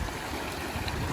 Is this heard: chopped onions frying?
no